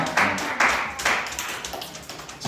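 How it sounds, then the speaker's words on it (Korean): Congregation at a church youth service clapping in welcome: a short, fairly close run of uneven hand claps in quick bursts, lasting only a couple of seconds. "자, 우리 박수로 환영합시다."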